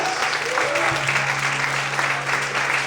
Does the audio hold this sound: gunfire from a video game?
no